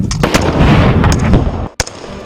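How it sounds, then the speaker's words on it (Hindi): Gunfire from intruders firing on border guards comes as loud, dense bursts with sharp cracks, then a brief drop to silence before one more shot. "घुसपैठियों ने हमारे ऊपर फायरिंग शुरू कर दी"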